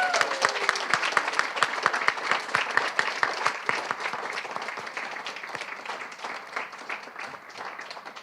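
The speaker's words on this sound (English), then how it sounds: "let's give our students a round of applause." An audience at a poetry recitation state finals applauds the students, a dense, steady burst of clapping from many hands that gradually softens toward the end.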